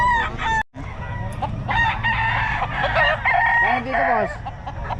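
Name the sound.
Boston Hen gamefowl rooster crowing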